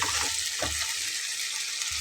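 Boiled eggs go into a hot pan of spiced oil and sizzle loudly and continuously, a close, dense frying hiss with low stirring thumps and scrapes, no voices.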